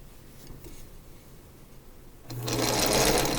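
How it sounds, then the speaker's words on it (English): A sewing machine stitches two quilt block pieces together with a scant quarter-inch seam; after a quiet moment the motor starts up loud and runs steadily to the end. "we're going to take these two, and we're going to sew them together."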